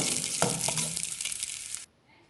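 Something lightly roasting in ghee in a pan for papaya barfi, a steady close sizzle with a few stirring scrapes that cuts off abruptly near the end.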